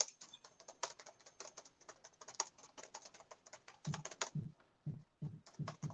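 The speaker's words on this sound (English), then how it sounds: "I don't think you're typing hard enough, bro" Rapid, steady keystrokes on a computer keyboard clatter close by for several seconds, with a few heavier, separated key presses near the end and no voices.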